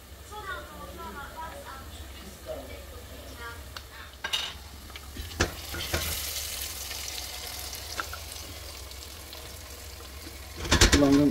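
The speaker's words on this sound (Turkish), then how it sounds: "Şimdi o da kavruluncaya kadar kavuracağım." Pepper paste stirred and fried in a pan for a Turkish salted-yogurt breakfast sauce, giving soft scraping and sizzling under a speaking voice, with a few sharp utensil clicks and a louder clatter at the end.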